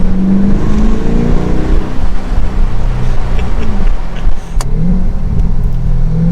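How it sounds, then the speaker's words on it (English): 2022 Chevrolet Corvette Convertible C8 R Edition with its V8 pulling hard, a loud close exhaust roar that rises and falls in pitch through gear changes, with a brief pause in the middle. "Has almost like an exotic V8 sound to it."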